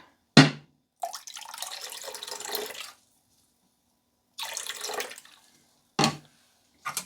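Apple cider vinegar poured into water, with short splashing bursts and gurgling pours separated by silent gaps, close and moderately loud.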